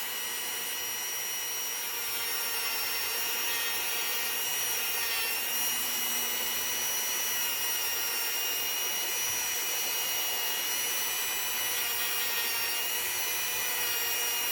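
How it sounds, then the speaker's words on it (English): An orange buffing wheel, pressed firmly, trims the sides of a polymer clay pendant, giving a steady, continuous high-pitched motor whine with a rough grinding edge that carries through the whole stretch without talk. "the orange wheel, if you put a little pressure, is coarse enough to trim these sides"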